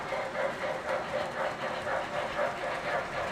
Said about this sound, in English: I feel like the trains they sound a lot better with the roadbed under the track.